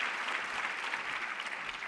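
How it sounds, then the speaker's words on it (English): An audience at the LUX Audience Award event gives film producer Maria Ekerhoft a dense, even round of applause, steady and sustained throughout without pauses. "please give the biggest round of applause to Maria Ekerhoft"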